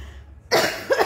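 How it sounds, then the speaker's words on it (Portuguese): A woman coughs twice in quick succession after a brief quiet moment, close and fairly loud, with a rough, throaty burst followed by a shorter second cough. "Continuo tossindo."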